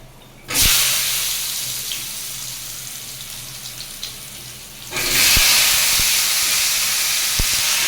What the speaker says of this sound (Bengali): এবারে এর ভিতরে যে আলুগুলি দিয়ে দিচ্ছি